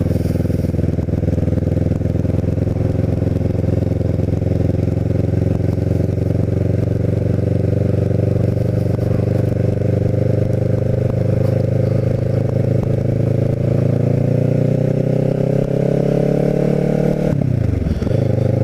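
Kawasaki Ninja 650r parallel-twin motorcycle cruising around North Cape May in mid January, a loud continuous engine drone with wind rush, gradually rising in pitch before dropping sharply near the end as the rider shifts or slows.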